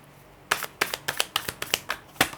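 Tarot cards are shuffled and drawn close up, with a quick series of about eight crisp snapping riffles at an even, brisk rhythm after a short quiet start.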